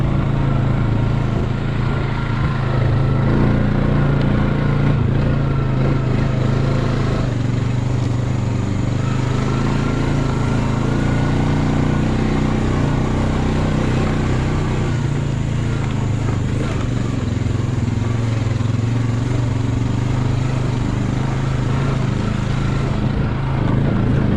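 Steady engine drone of a new 2021 Honda Rubicon ATV being driven over soft, wet black-ground farmland, a continuous close rumble with slight shifts in load and no talk.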